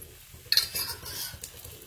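Mung dal appe being flipped in an appe pan, with a sudden metallic clink and scrape of a utensil on the pan followed by softer scraping and a faint sizzle, close and quiet.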